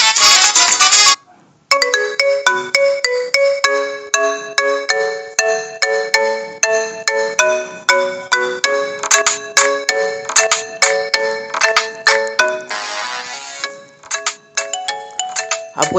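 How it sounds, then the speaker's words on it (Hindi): Phone ringtones from a ringtone app play one after another: bright, melodic electronic tones with repeating chimes, loud and close, with a short silent gap near the start and a brief change of tune around the thirteen-second mark. "आपको यहाँ 200 तक रिंगटोन मिल जाएंगे।"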